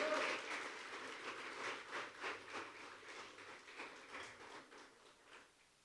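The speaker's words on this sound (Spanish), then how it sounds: "Dale palmas al Señor Todopoderoso" A church congregation claps together in a rhythmic, fairly distant burst that fades over several seconds during a worship service.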